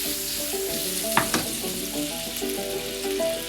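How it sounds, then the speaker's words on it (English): Butter melting in hot oil in a frying pan gives a steady, close sizzle, broken by a couple of sharp clinks near the middle. "You want to put in about 25 grams of butter and let it melt."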